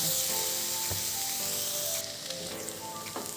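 Soaked kurdai are sautéed with spices in a pan, giving a steady, close hissing sizzle broken by occasional scraping stir strokes, with no talking.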